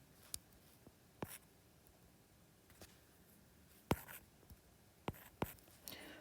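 Pen or pencil scratching out numbers on paper during a multi-step equation lesson, a quiet, sparse series of short strokes and taps spread unevenly, close and faint, with no talking.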